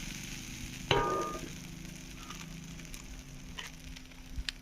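Spices tipped into hot oil for matar paneer burst into a sharp sizzle, then settle into a steady low crackle with a few faint scrapes and pops, close up with no talking.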